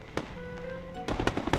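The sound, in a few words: fireworks going off in the video game Infinity Nikki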